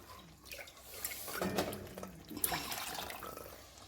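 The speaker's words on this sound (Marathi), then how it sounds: "मी पाणी टाकून घेते" Water splashes and trickles into a metal pot in uneven pours, with faint clinks of cookware close by.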